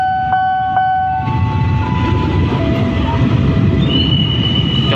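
A loud train rumbling past close by, with tonal whistle-like hums at the start and a high squeal of wheels toward the end.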